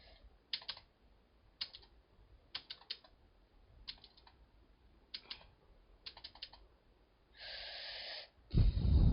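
Bursts of quick keyboard typing, clicking keys in short rapid runs separated by pauses, followed by a brief hiss and a louder breathy rustle at the end.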